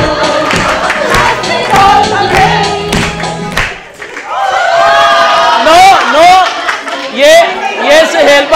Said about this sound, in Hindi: सारे ताली बजाएं।